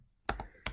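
Two quick keystrokes on a computer keyboard, close and crisp, separated by a short pause.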